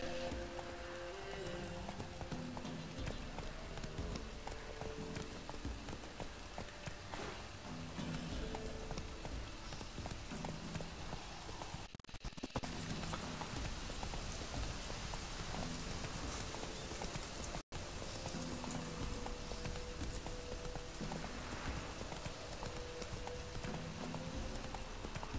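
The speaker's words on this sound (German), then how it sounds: "Na komm, Jolly Jumper, dann reiten wir mal weiter." Horse hooves clip-clop steadily while a mount is ridden on through a video game world, a continuous rhythmic trot heard at moderate loudness over soft rain-like background noise, with no talking over it.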